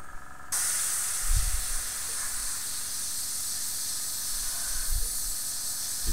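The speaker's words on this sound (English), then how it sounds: "So I'm just going to put some little bits of colour on, and I'm going to spray them around." Steady spray hiss as paint colour is sprayed onto a turned and painted wooden bowl, a continuous close aerosol rush that starts abruptly and runs without pause, with a couple of low thumps.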